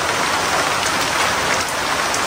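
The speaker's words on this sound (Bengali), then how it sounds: "বেশ ভালো বৃষ্টি হচ্ছে আলহামদুলিল্লাহ, বর্ষা বৃষ্টি যেটাকে বলে।" Heavy monsoon rain pours down in a steady, dense roar, close and continuous throughout with no pauses and no voices.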